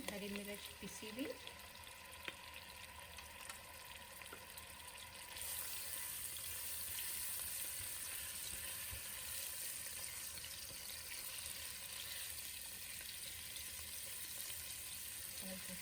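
Ground garlic and green chili fry in hot oil for a spicy potato dish, giving a steady soft sizzle that swells a little partway through and runs alone under faint kitchen background.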